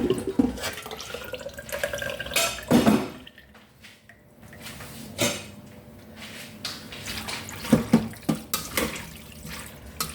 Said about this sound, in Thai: คุณยายล้างเมือกออกก่อนนะคะ